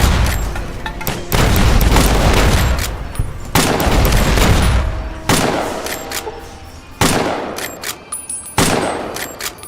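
Gunfire in Fallout: New Vegas, The Lonesome Road, with loud, close booming shots fired in bursts and single blasts, each ringing out with a long echoing tail across the whole stretch.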